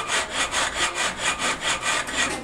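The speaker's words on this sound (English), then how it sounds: "this is a self-sharpening cutter. So you're going to want to go ahead and sharpen it." A self-sharpening print cutter blade being sharpened, giving a steady rasping scrape in even back-and-forth strokes, about ten passes in quick rhythm, close and fairly loud with no voices.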